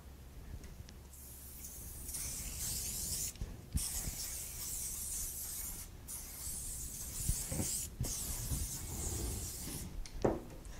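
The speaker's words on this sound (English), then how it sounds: "you can use some spray adhesive just right above the second embossment line" Hissing bursts from an aerosol can of spray adhesive applied to roof tiles, several long sprays separated by short pauses, with some rubbing and handling noises in between.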